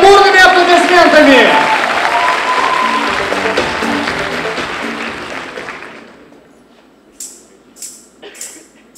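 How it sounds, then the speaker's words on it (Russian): Concert audience at a Day of Knowledge event applauding student construction brigades, heavy clapping under an announcer's voice and music that fades out over several seconds, followed by a few faint claps. "Наградите ребят бурными аплодисментами!"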